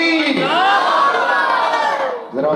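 A large crowd at a religious gathering shouts a loud, sustained chant of the Nara-e-Takbeer slogan in unison, a swelling roar of many voices close by that drops off briefly near the end.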